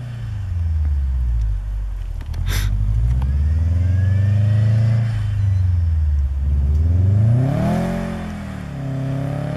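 Subaru Forester engine revving hard while driving through snow off road, a loud continuous growl rising and falling in pitch through several surges, with a brief sharp knock near the start.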